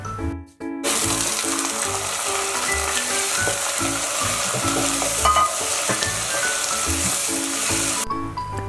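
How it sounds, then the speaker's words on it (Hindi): Chicken liver and kidney fry with onions in a hot pan, a loud steady sizzle with repeated scraping stirs throughout, close up after a brief quiet start. "आप इसमें कलेजी और गुर्दा ऐड कर दीजिए और चलाते हुए फ्राई करिए जब तक कि इसका कलर चेंज ना हो जाए"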